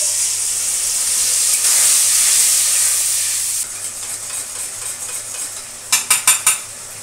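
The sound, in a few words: spice masala frying and stirring in a pan with potatoes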